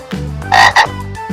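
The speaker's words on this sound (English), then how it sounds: "Frog, frog, frog." A frog gives a few loud, close croaks in quick succession, harsh raspy calls alone with no other sound around them.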